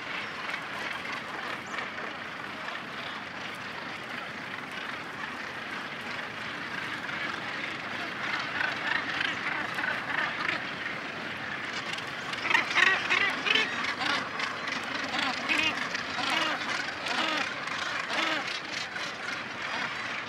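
A crowded gannet breeding colony on the Atlantic coast, with a dense, continuous chorus of harsh calls from many birds that swells slightly louder toward the end. A voice may also be present.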